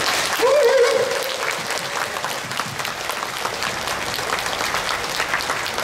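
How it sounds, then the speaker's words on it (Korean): A crowd at a Korean traditional music performance at Seoul Nori Madang breaks into loud, sustained applause, many hands clapping together at once from a sizable audience. "뜨거운 격려 박수 한번 부탁드리겠습니다"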